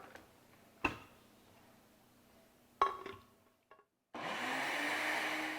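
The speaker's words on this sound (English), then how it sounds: "We're going to go ahead and put it in a blender." A couple of clinks and knocks, then a blender motor kicks on and whirs loudly and steadily until the end, blending beets.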